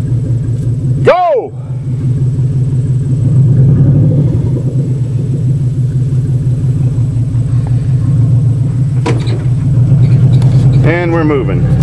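A Ford F250 diesel truck being pull started, a loud continuous low rumble that swells as it gets moving. Brief squealing pitch sweeps cut in near the start and the end, and voices shout over the engine.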